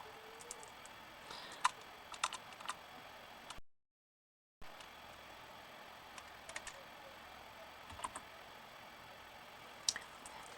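Faint, sparse clicks of typing on a computer keyboard come in small irregular bursts, broken by a brief stretch of silence in a quiet room.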